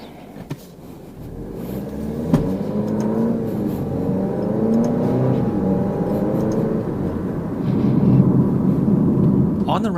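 A 2023 Alfa Romeo Stelvio drives along with a smooth, steady engine drone that swells gradually as it accelerates, with a light thump early on and a louder push near the end.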